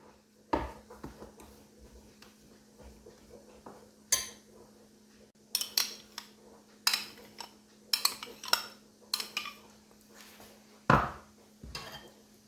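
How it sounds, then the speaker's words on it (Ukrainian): Egg yolk mashed together with sour cream in a bowl as a salad dressing is made, heard as scattered clinks and scrapes of a utensil against the dish, close and fairly quiet, with no talking. "Розминаю жовток і даю до нього сметану."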